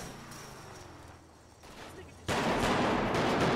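Gunfire in a GTA roleplay game through a gate, a burst of dense shots arriving abruptly and loudly partway through after a quieter stretch, with background game noise.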